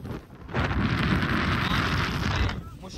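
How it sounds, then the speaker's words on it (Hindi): Strong wind buffeting a microphone outdoors at a barbecue party, a loud, roaring rumble that gusts up suddenly and holds for a couple of seconds before dropping away. "बहुत तेज हवा है"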